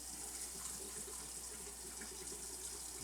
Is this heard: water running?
yes